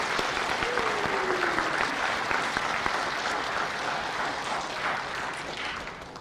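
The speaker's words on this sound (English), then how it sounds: "let's just give a round of applause for the Legion and the Auxiliary." An audience at a Legion and Auxiliary gathering gives a sustained round of clapping, dense and fairly close, slowly tapering over about six seconds with a faint voice briefly audible.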